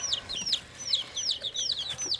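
Backyard homestead chickens clucking and calling, a quick series of chirpy cackles repeating about every half second, close and clear with no voices.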